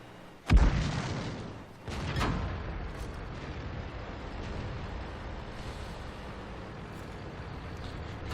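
A tank cannon fires in World of Tanks with a heavy boom, followed by a second blast and a low rumbling battlefield drone with distant thuds.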